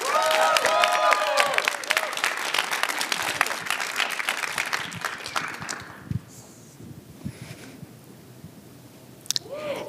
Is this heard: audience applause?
yes